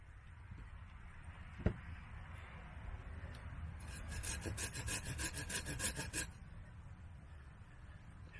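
A sharp hand saw cuts through wood outdoors while building a bushcraft chair, a quick run of even back-and-forth rasping strokes in the middle, close and fairly loud over quiet background.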